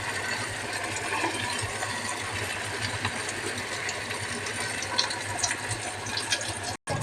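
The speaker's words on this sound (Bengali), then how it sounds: "এবারে দেখো আমি একে একে করে ভাজবো এগুলো" Corn chops dropped one by one into hot oil fry with a steady, close bubbling sizzle that runs the whole way through, with a brief dip near the end.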